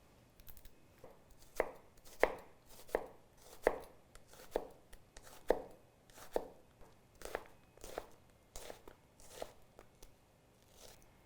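A sharp kitchen knife chops through an onion on a cutting board in a children's cooking class, about a dozen crisp, crunchy strikes at a steady, slightly uneven rhythm, close and fairly loud with no talking.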